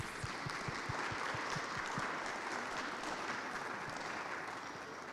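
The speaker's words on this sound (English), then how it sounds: "Round of applause." Congregation applauding during a worship service, a steady wash of many hands clapping at moderate distance that holds evenly throughout.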